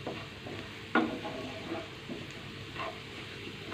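Ginger and garlic frying in a pan, a soft steady sizzle with a few sharper crackles and stirring scrapes, fairly quiet, with no voices.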